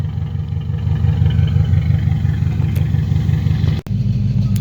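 The engine of a 1975 AMC Matador Brougham station wagon runs after a carburetor rebuild, a close, steady low rumble with a pulsing throb and a brief dropout near the end.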